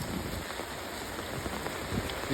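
Heavy first rain of the season pours down in a dense, constant roar, with occasional louder splashes close by.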